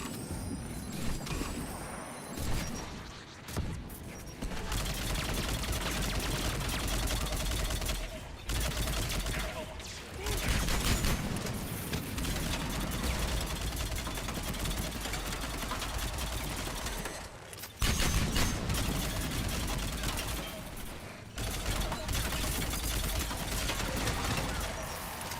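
Sustained gunfire rattles through a Mass Effect 3 multiplayer firefight, dense bursts of rapid shots and weapon noise continuing for many seconds, with brief gaps and players talking over parts of it.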